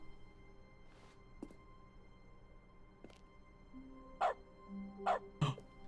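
Several short dog barks from the dog mode in the video game The Stanley Parable, a faint yip followed by three louder, clustered barks near the end over a low background hum.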